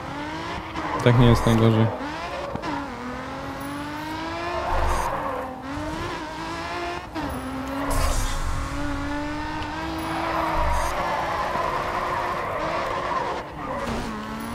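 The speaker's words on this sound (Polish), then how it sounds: "Niezły drift" A car drifts with squealing tires in the racing game GRID 2, its engine note rising and falling steadily through the whole stretch, while someone talks over it.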